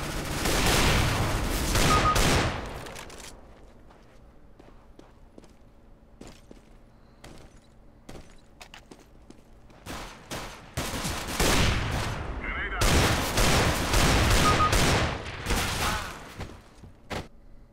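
Rapid bursts of gunfire in the video game CS:GO come in two loud clusters of automatic fire, with sparse single shots and quieter gaps between them.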